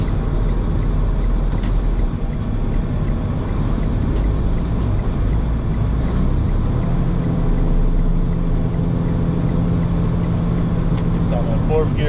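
A big rig truck drives through a snow storm in 4th gear, its engine a steady low rumble with road noise throughout, while someone talks over it.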